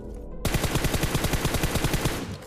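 Rapid AKM gunfire in PUBG Mobile on the Erangel map, a burst of about twenty sharp, loud shots in steady quick succession after a brief quiet moment.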